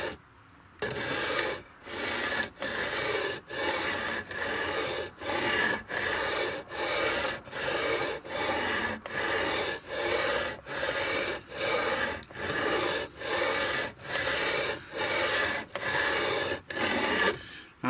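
A sanding block with coarse paper levels guitar frets in steady back-and-forth strokes, about seventeen evenly spaced close rasping passes, each with a short gap between them.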